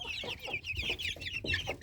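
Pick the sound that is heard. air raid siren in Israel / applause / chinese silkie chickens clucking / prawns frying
chinese silkie chickens clucking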